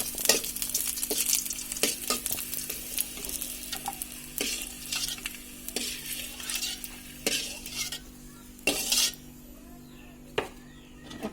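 Garlic cloves sizzle in a little oil in a pan, with a steady frying hiss broken by repeated sharp scrapes and clinks of a spoon stirring against the metal.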